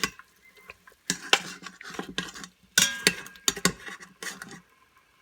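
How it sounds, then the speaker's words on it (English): A utensil scrapes hard browned bits off the bottom of a pot while deglazing for BBQ pulled beef, producing close, irregular bursts of metallic scraping and clinking separated by short pauses. "Now we're just going to deglaze the bottom of this a little bit,"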